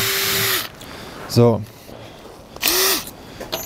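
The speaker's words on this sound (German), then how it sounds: "Die sind aus Metall, ganz leichtes Metall, von daher so ein leichter Metallbohrer, das funktioniert." A light metal piece is drilled with a light metal drill bit while building a shooting stick bipod: two short, loud whirring bursts of the drill with a brief spoken word between them.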